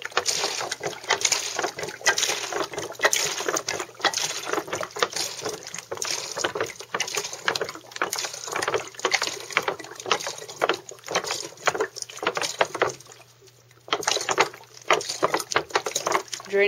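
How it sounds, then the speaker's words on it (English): Water drains steadily from a homemade vortex setup, a continuous rushing, gurgling wash that stays fairly loud throughout and briefly eases near the end. "we're going to drain a good majority of the water"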